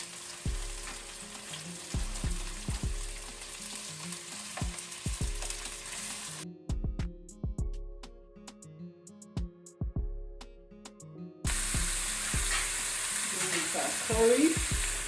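Shrimp, onion, carrots, green pepper and habanero peppers frying in a pan for coconut fried rice, a steady sizzle with scattered knocks and clatter, cutting out briefly and then returning louder and denser.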